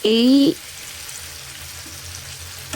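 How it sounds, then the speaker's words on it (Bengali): Onions, tomatoes and salt fry and get stirred in a pan for a rohu fish curry, giving a steady low sizzle after a brief loud tonal squeal at the start. "লবণটাও পেঁয়াজ আর টমেটোর সাথে মেশানোর জন্য আমি একটু নাড়াচাড়া করে নিচ্ছিলাম ঘন ঘন"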